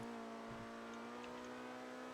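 Car engine in Grand Theft Auto V, a steady droning hum with a strong low tone held throughout, loud and continuous, with no talk over it.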